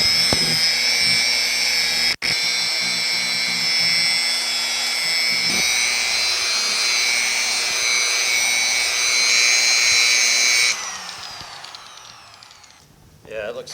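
A power polisher buffs the paint under the hood of a 1950 Chevy truck, giving a loud, steady motor whine that holds for about ten seconds and then winds down, with a brief cutout near the start.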